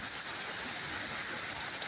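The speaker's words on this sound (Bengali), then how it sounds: "আজকে এরকম বৃষ্টি শুরু হয়ে গেছে" Steady, dense rain falling on a surface, a continuous hiss with scattered patter throughout, no voices.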